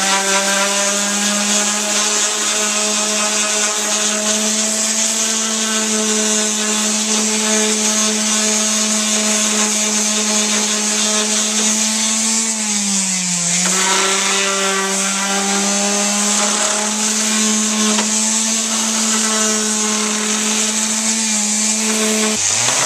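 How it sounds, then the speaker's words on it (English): Power sander with 80-grit sandpaper working eastern red cedar dishes, a steady, loud motor whine with a gritty abrasive hiss running continuously, briefly dipping in pitch midway as pressure shifts, with no talking. "all you gotta do is just sand this nice. I'm using 80 grit sandpaper, and we're just gonna tear right into this."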